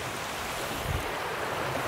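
A river rushes steadily in an Austrian forest, a close, continuous broadband wash with no voices.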